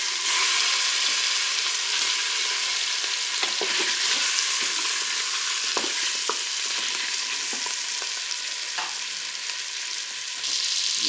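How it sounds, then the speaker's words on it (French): Pork paupiettes browning in hot melted butter in a Cookeo multicooker, a steady close sizzle and crackle with occasional stirring scrapes, no talking. "mon beurre est bien chaud et fondu, donc je vais faire revenir mes paupiettes"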